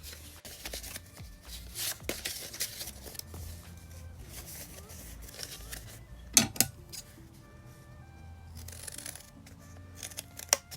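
Scissors snip through paper sunflower petals in a run of crisp cuts, with papery rustling and handling noises between them and a few sharper clacks.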